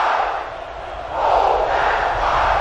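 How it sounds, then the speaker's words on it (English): A stadium crowd cheering in the video game NCAA Football 11, a loud dense roar of many voices that swells midway and holds steady. "This crowd is almost shaking the stadium."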